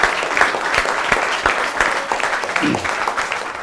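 A standing audience at a Holi poets' gathering gives a burst of clapping, steady and fairly close, with bright dense hand claps through the whole stretch and no one talking over it.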